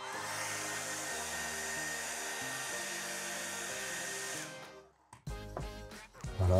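A heat gun or hair dryer blows with a steady loud whir while softening skateboard grip tape for peeling, then cuts off and gives way to brief handling noises.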